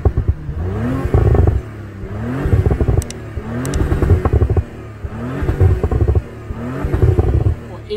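A 2019 Audi RS5 engine heard from outside the car, revved repeatedly in loud rising bursts, about four pulls, each climbing and dropping back, close by with no speech.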